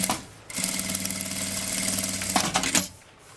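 A domestic sewing machine stitches a fabric bag seam, running in one continuous motorized burst of about two seconds with a steady mechanical whir and rapid needle rhythm, close and loud, then stopping abruptly; no talking.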